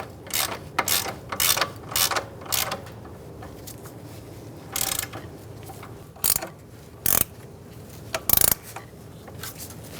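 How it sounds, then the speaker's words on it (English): Ratchet wrench snugging the hub assembly bolts on a 2014-2018 Subaru Forester during a front wheel bearing job, with bursts of rapid clicking pawl strokes separated by pauses, close and fairly loud. "we're going to snug these up and then torque them to 59 foot-pounds"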